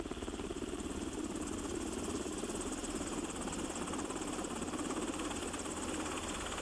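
A Firehawk firefighting helicopter flies nearby with a loud, steady rotor and engine roar that keeps up a continuous pulsing thrum throughout.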